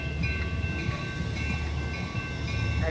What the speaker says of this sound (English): The next inbound Metro train to Chicago is now arriving in your station.